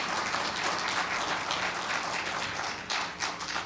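An audience at a political event discussing Common Core claps steadily, a broad wash of many hands in a large room, holding at even loudness before tapering near the end.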